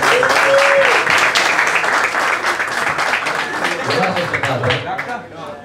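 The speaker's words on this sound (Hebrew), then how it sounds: "נריה, מגיע לנריה מחיאות כפיים." An audience applauds a person named Neriya at a religious lecture, loud steady clapping from a crowd that holds for several seconds with voices mixed in, then starts to fade at the end.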